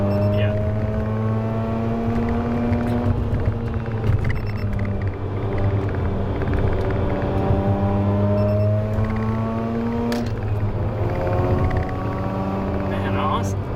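A car's engine drones steadily from inside the cabin while driving, its pitch rising and falling through gear shifts as the revs climb and drop, loud and continuous throughout.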